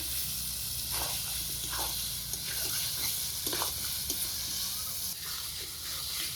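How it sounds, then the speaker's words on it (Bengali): Fried potatoes are stirred into mutton curry in a home kitchen pan, giving a soft, steady sizzle with intermittent scraping strokes, fairly quiet and without talk. "ভাজা আলু দিয়ে নেড়ে চেড়ে মিশিয়ে ঝোলের গরম জল দিব।"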